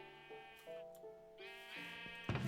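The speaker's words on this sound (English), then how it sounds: "Are we still having issues with the sheep in the back?" Sheep bleat on a farm in a video game, several harmonic wavering calls overlapping one after another, close and clear with no talk over them.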